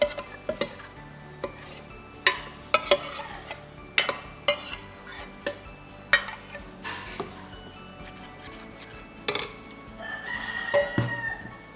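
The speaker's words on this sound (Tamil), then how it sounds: "கலந்து நல்லா கலக்கணும். கையால் தான் அடிக்கணும்." Dosa batter gets mixed by hand in a pot, with repeated wet slaps and knocks against the vessel at an uneven rhythm, sharp clatters standing out over quiet background.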